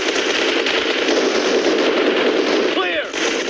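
Automatic gunfire in a team deathmatch video game: dense, continuous rapid shooting fills the whole stretch, loud and close, with a brief sweeping electronic sound near the end.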